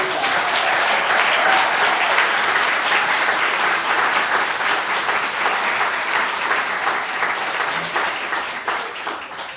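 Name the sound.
warm round of applause from the congregation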